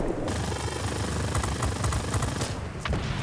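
Aircraft machine guns firing in World of Warplanes, a rattling stream of rapid shots over a constant roaring engine drone, close and continuous for a few seconds.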